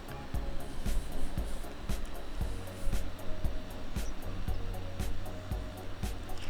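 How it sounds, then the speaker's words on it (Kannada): Chopped onions fry in hot tempering oil for a moong dal saagu, giving a steady close sizzle with occasional sharper crackles and stirring taps. "ಈರುಳ್ಳಿ ಹಾಕಿದ್ಮೇಲೆ ಈರುಳ್ಳಿಯನ್ನು ಚೆನ್ನಾಗಿ ಫ್ರೈ ಮಾಡ್ಕೊಳ್ಬೇಕು."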